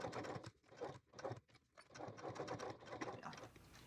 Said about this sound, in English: we're going to go to the sewing machine and top stitch around the outer edge on all 3 sides